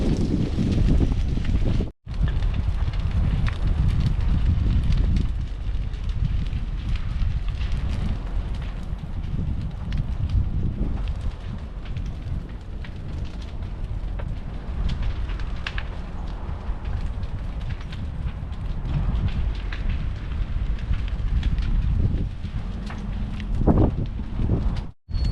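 A large fire burns down inside a pit, giving a steady, loud roaring rush with a whistling quality like a jet engine, sustained throughout with wind-like noise and a brief dropout near the start.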